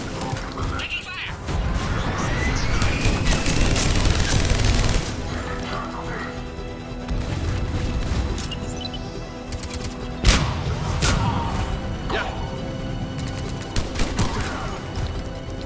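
A firefight in Mass Effect 3 rings out in bursts of gunfire mixed with crashes, mechanical clanks and a sharp boom. Voices shout over the shooting, and the din stays loud and dense throughout.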